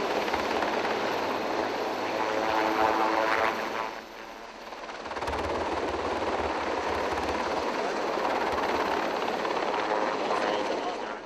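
A Sikorsky helicopter hauling logs in Farming Simulator 22 gives a steady, heavy rotor drone with a low thudding pulse that dips briefly before resuming, continuous and fairly close throughout.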